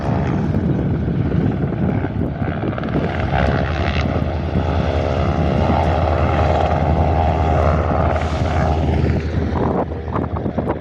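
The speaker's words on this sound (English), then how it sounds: "the Cessna 150 that's coming into land right now" Cessna 150 light aircraft coming in to land on a windy day, its propeller engine drone steady and fairly loud throughout, with a rising whine near the end.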